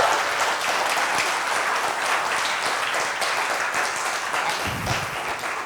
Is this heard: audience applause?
yes